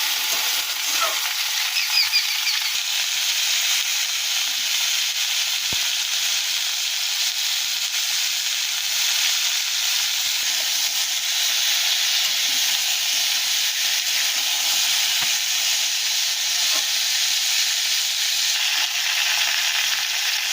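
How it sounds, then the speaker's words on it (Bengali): Fish frying in a pan, cooked home style for a taro and fish curry, gives a steady, even hiss of hot oil that carries on without a break, with no voices. "লাল লাল লাল লাল করে ভাজা হয়ে গেছে"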